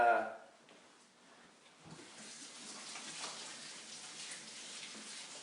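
Hands washed under a running kitchen tap, a soft, steady splashing stream after a brief spoken moment at the start, fairly faint and close.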